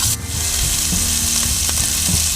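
Italian hot sausage frying in a pan for Spanish chicken and rice, a steady close sizzle with faint scraping stirs and no voices.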